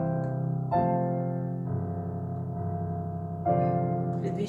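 Piano playing the final variation with bell-like chimes, sustained chords struck a few times in a slow rhythm, solo and moderately soft.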